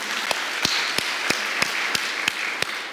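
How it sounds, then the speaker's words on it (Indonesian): A church congregation claps for Jesus at a worship service, with steady broadband applause and sharp hand-clap taps recurring roughly every third of a second, close and moderately loud. "Tepuk tangan dulu buat Tuhan Yesus."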